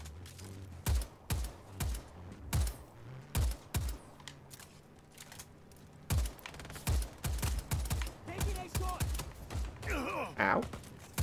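Repeated bursts of video game gunfire from a gun in Just Cause 4, clusters of sharp shots fired in quick rhythmic volleys with pauses between, moderately loud over a faint background.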